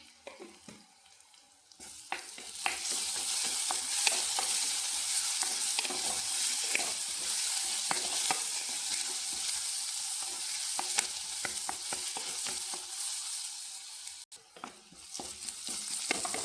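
Fennel seeds dropped into hot oil in a pan set off a loud, dense, continuous sizzle and crackle that starts after a short quiet moment and holds steady, with no voices.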